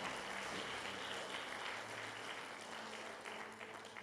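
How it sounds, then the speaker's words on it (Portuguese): Congregation clapping in praise during a church worship service, a steady dense wash of many hands filling the whole stretch at moderate level, with no talk over it. "Isso, louve Ele com as palmas"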